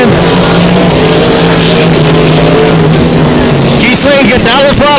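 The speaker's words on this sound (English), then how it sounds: "Gisele Marco accelerating really hard." Hydroplane racing boat engine at a Grand Prix race on the last lap, roaring loud and steady as it accelerates hard, with a commentator talking over it and a brief rising whine near the end.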